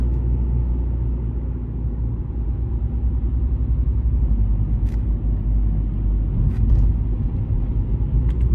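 A Fiat Egea Cross with a 1.4 Fire engine climbing a steep hill in third gear, a steady low engine rumble and road noise heard from inside the car, loud and constant, with no talking.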